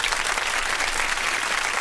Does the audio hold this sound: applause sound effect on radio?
yes